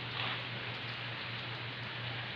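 Heavy rain pours steadily on a cyclist, a dense continuous hiss of drops pattering on surfaces, with a faint low hum underneath and no talking.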